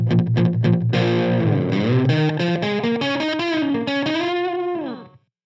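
Distorted electric guitar playing a melodic phrase with a short slapback echo from a Universal Audio UAFX pedal, each note doubled by a quick tight repeat, loud and continuous before cutting off.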